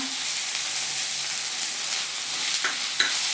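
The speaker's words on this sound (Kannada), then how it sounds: "ಈರುಳ್ಳಿ ಜೊತೆಗೆ ಇದನ್ನ ಚೆನ್ನಾಗಿ ಫ್ರೈ ಮಾಡೋಣ" Chopped tomato frying with onions in a pan for lemon chicken gives a continuous even sizzle, with a couple of brief stirring clicks near the end.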